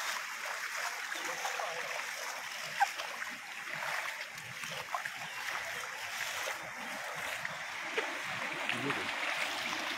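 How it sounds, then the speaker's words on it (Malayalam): Floodwater rushes steadily during heavy monsoon rain in the Puthur area, where a road has been closed, giving a constant broadband roar with occasional small splashes and no clear voices. "അതിശക്തമായിട്ടാണ് ഇവിടെ വെള്ളം വന്നു ചേരുന്നത്."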